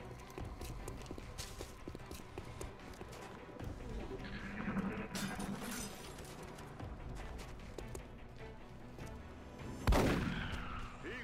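A single sharp shotgun blast from XCOM: Enemy Unknown on Xbox 360 bursts out loudly near the end, over a busy bed of continuous game ambience and effects.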